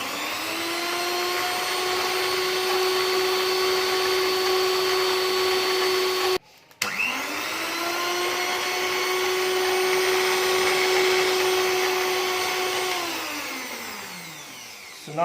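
An electric hand mixer whirs loudly and steadily, beating eggs and oil for crackle-top cookie batter, cutting out briefly midway, then restarting and winding down at the end, with no voices.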